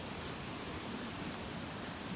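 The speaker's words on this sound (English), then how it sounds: "Rain is here." Steady rain patters and hisses on surfaces nearby during flooding in Eastern Kentucky, a constant wash of drops with no pauses.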